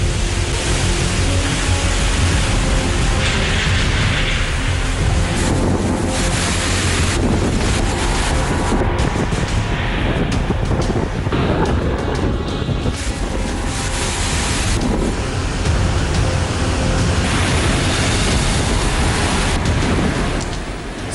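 Cyclone Amphan storm winds roar and buffet the microphone along the coast, with crashing ocean waves surging underneath in a loud, continuous, rumbling wash.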